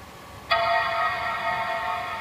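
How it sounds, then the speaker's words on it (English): Early-2006 Mac Pro 1,1 Quad-Core Xeon powering on after reassembly, sounding its startup chime: a single loud, rich tonal chord that begins abruptly and sustains, slowly fading. "See if we get a chime."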